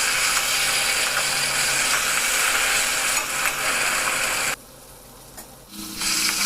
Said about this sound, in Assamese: প্ৰথমতে এতিয়া কেৰাহীখন পাতি মাছখিনি হাফ ফ্ৰাই কৰি ল'ম।